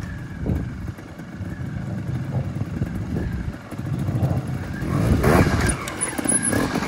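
A GasGas trials motorcycle works its way over obstacles at a trials invitational, its engine a steady, uneven mid-distance drone that swells and revs briefly near the end, with faint crowd and outdoor noise around it.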